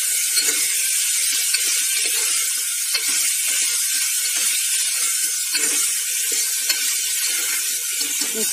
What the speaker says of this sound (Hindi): तो अभी इसको 3 से 4 मिनट तक मीडियम सेक पर हम भूनने देते हैं।